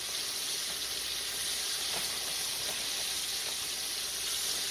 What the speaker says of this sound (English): We're frying breast strips.